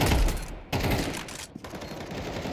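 Rapid gunfire in the video game Counter-Strike 2, a loud burst of close shots cracking in quick succession across a couple of seconds.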